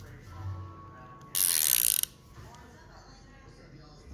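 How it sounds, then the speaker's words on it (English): A power tool spins a nut down onto a bolt while a Dodge Dakota R/T is being worked on, a loud whirring burst of under a second between quieter shop background. "Run your nut down."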